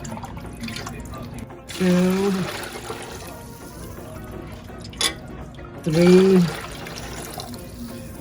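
Cabbage cooking water being poured while making Romani stuffed cabbage, two short splashing pours a few seconds apart, with a person counting aloud between them.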